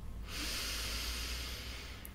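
One long, steady breath is drawn in through the nose during a relaxation exercise. It is a close, soft hiss that lasts about two seconds.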